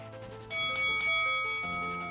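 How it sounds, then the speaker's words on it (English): Workout timer bell marking the end of a boxing heavy bag set rings out in three quick bright strikes, ringing tones lingering and slowly fading over a steady background hum. "Don't stop until you hear the bell."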